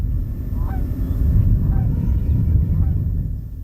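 Geese honk repeatedly at Centennial Marsh, several short calls spaced apart at a distance over a steady low rumble of wind or background noise.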